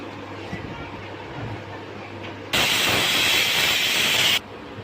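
A pressure cooker on a gas stove at medium flame, cooking spinach dal, lets out a loud, steady hissing steam whistle that bursts in abruptly and holds for about two seconds before cutting off, over quiet kitchen background.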